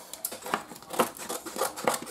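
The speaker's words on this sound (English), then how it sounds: "I'm going to go ahead and cut all the extra off" Scissors trimming excess adhesive vinyl for kitchen decor, a quick series of crisp snips and paper-like crackles, about six cuts in a loose rhythm, close and fairly quiet.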